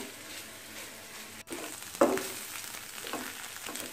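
Malabar spinach with beaten egg cooks in a covered pan, a soft, steady sizzle with a sharp clatter near the middle and a brighter burst just after, with no voices.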